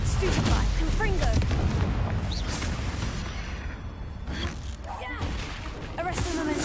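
Spell casting and a Confringo blast in the Hogwarts Legacy video game, heard as a dense, continuous run of booming impacts and crackling bursts. A brief lull comes midway, then the barrage picks up again.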